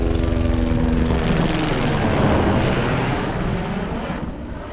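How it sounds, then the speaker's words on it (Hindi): Helicopters flying among high Himalayan mountain ranges give a loud, steady engine and rotor roar that fills the whole stretch and eases slightly toward the end. "इथे उडणारे शेकडो हेलिकॉप्टर पाहायला मिळत होते"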